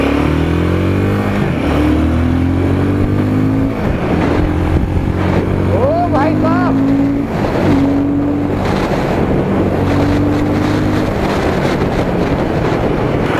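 A Royal Enfield Guerrilla 450 motorcycle engine pulls up in first gear in rising pitch, easing off and accelerating again in several runs, under heavy wind rush against the microphone.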